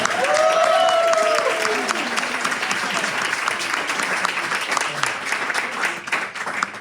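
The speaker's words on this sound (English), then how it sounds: "Can we get one more round of applause for Jay?" Warm audience applause at a film screening Q&A in a supper club, a full continuous burst of clapping that tapers slightly toward the end, with a voice briefly audible near the start.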